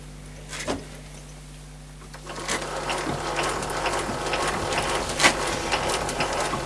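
A metal lathe screw-cutting a thread with the half nut engaged, running as a steady mechanical whir of gears with a faint ratcheting clatter. It starts quiet and swells louder after a couple of seconds, with one sharper click near the end.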